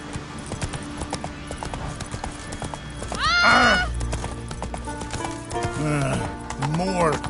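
Geralt's horse Roach in The Witcher 3 galloping with a steady rhythmic clip-clop of hooves, broken by a sharp close whinny and further snorting neighs, over a game soundscape.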